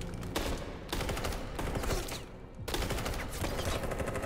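Gunfire in the video game Detroit: Become Human comes in dense, rapid volleys. Bursts of automatic shots are separated by brief gaps, loud and close, with no talking.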